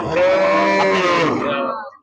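A single long, loud moo from a cow at a livestock market, drawn out for about two seconds before stopping abruptly.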